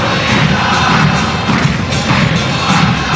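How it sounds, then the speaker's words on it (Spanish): Banfield football fans in a stadium crowd cheer and applaud during a match against Atletico Tucuman, a loud, continuous roar with scattered clapping and thumps, no voice standing out. "aplauden los hinchas"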